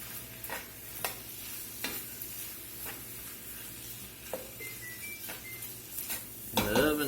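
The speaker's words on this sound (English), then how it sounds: "I'm going to go ahead and put a cup of rice. This is basmati rice." Basmati rice stirred into a sizzling Tex-Mex jambalaya pot, a low steady sizzle under repeated scraping stir strokes and light clinks of a utensil against the pot, with a louder rattle at the end.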